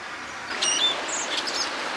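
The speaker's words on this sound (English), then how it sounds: "And the sound of the river as well, the birds, the ducks" Birds chirp and tweet near a river, with short, faint high calls rising over a steady wash of flowing water and no talking.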